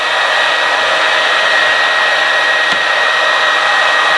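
A hot air blower heats the threaded end of a moped exhaust pipe, making a loud, constant whooshing roar from start to finish, with a single faint click partway through.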